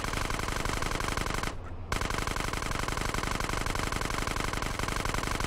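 Rapid, continuous automatic gunfire in GTA San Andreas, loud and steady, broken only by a very short pause before the firing resumes.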